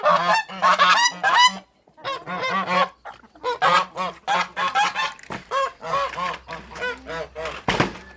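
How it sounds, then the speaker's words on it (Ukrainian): Geese honk loudly and repeatedly, a noisy flock calling in overlapping bursts nearby, with a brief thump near the end. "давайте ще гусей випустимо"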